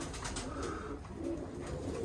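Roller pigeons coo softly and repeatedly, low throaty calls overlapping close by in a quiet loft with light background rustle.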